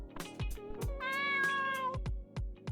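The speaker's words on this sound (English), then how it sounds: "Wait, there's a cat?" A cat in Dave the Diver gives a single clear, stretched meow over a gentle rhythmic background beat, close and alone with no talking.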